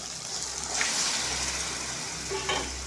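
Marinated chicken hits a hot pan for Chicken Patiala and fries with a loud, continuous sizzle and crackle, close up, with a few stirring scrapes and no voices.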